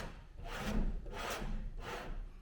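Sandpaper worked by hand over body filler on a car panel, three rhythmic rasping strokes in quick succession, close and fairly quiet with no talk.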